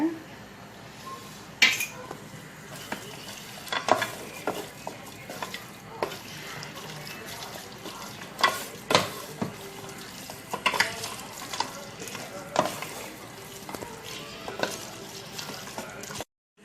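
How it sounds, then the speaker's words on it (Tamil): Metal utensils scrape and clatter in a pan in irregular bursts, with a faint sizzle underneath as food is stirred and sautéed for mutton biryani before curd is added. "நல்லா வதக்கிட்டு இந்த தயிரை போட்டுருங்க"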